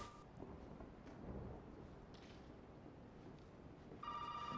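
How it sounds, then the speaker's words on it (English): A telephone rings in Resident Evil 7, surfacing in the last moment as a short, bright electronic trill over a dark, rumbling ambient backdrop. "Phone ringing down there."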